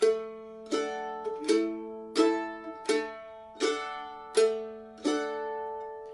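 A mandolin strums a chord in slow, evenly spaced single strokes, each ringing out and fading before the next, clear and close.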